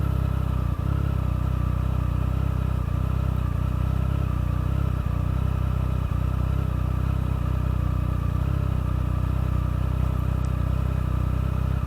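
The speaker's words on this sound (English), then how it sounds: "Love this speed triple. Throttle's so smooth on this bike" A Triumph Speed Triple motorcycle engine hums steadily at cruising speed, a low continuous drone with faint wind and road noise and no change in pace.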